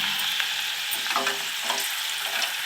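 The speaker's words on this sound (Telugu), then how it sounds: "ఆయిల్ అయితే హీట్ ఎక్కిందండి. మనకి మందార పూలు అయితే వేసుకుంటున్నాను." Hibiscus flowers sizzle and crackle as they fry in hot oil for a homemade hair oil, with a steady close hiss and scattered pops throughout and no voices.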